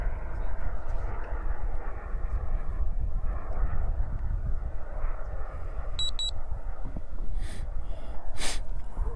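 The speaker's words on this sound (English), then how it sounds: "So we'll just start lining up to the runway, doing some runway passes" A model jet, an Aviation Design Diamond on its maiden flight, makes runway passes with a steady engine roar that swells and fades as it passes, broken by a few short electronic beeps.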